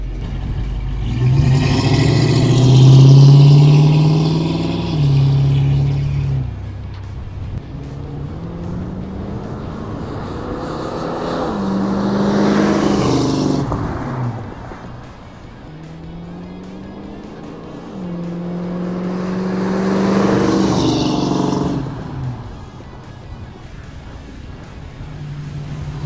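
A 1967 Ford Mustang makes repeated flybys in wide open space, its V8 engine swelling loud as it approaches and passes, then fading, three passes in a row with rising and falling pitch.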